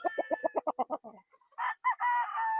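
A game fowl rooster, a stag candidate, gives a quick series of about seven clucks, then a short crow-like call after a brief pause, close and clear with no talk.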